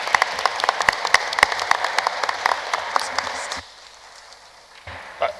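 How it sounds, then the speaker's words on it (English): Room of people at a community area forum applauding a speaker and her team, dense close clapping for about three and a half seconds before dropping to quiet room tone, with a brief noise near the end. "Could we have a quick round of applause for Sally and her team?"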